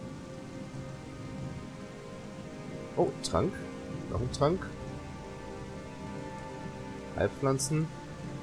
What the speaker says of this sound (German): Es regnet hier gerade ohne Ende.